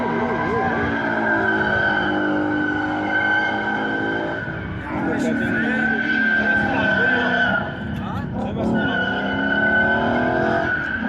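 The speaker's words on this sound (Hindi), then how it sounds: "गाड़ी चीख रही है, गाड़ी का आवाज़ चेंज हो गया।" Tires screech loudly and continuously in long wavering squeals as a car skids, with short breaks and engine noise beneath; voices talk over it.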